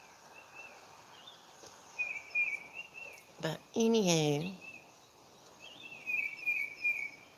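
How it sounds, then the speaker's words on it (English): Small birds chirp and trill in the distance outdoors in short bursts, while a person briefly speaks over them. "oh, listen to the birds"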